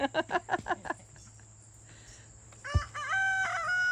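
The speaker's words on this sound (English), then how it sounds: "He crows right when you run off from him." A rooster crows loudly and close, a drawn-out call near the end, after a burst of rapid clucking at the start.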